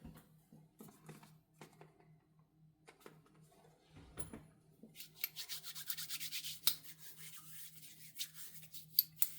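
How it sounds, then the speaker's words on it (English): Powder being rubbed between bare hands before gloves are pulled on: soft close dry rubbing and scuffing strokes, sparse at first, then a denser continuous brushing for the last few seconds. "I'm just rubbing some powder in my hands because otherwise I can't get the gloves on."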